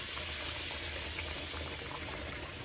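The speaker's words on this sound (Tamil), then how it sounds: "நான் தண்ணி கொதிக்க வச்சுட்டு நான் அப்படியே தான் வச்சுருந்தேன்." Water comes to a boil in a pot on the stove, ready for cooking semolina, giving a steady, close, continuous bubbling roar with no voices.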